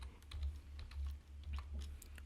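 Fingers typing on a computer keyboard, a quick irregular run of soft close keystrokes over a low steady hum.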